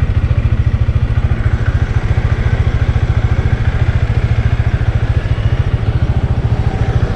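Motorcycle engines thrum loudly with a fast, even pulsing beat, a continuous close-up rumble while riding.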